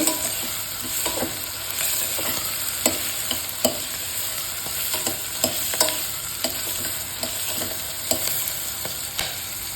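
Vegetables frying in oil for a village-style veg biryani, a dense continuous sizzle close by, punctuated by repeated spatula scrapes and clicks against the pan as they are stirred.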